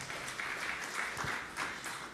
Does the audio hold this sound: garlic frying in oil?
no